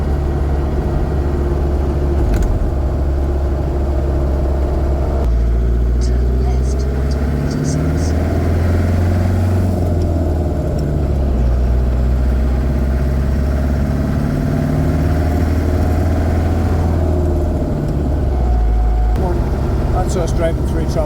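A Land Rover Series 2 camper drives through the town of Tralee on an Irish coastal road trip, its engine droning steadily and loudly throughout with low rumble, and someone talks over it at times.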